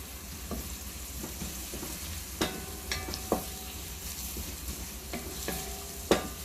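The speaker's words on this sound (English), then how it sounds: "we're just shaking these around, sauteing them" Onions sauteing in a pan while being cooked for meatballs in gravy, a steady close sizzle with occasional scraping and clinks as the pan is shaken, no voices.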